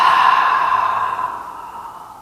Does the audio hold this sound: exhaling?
yes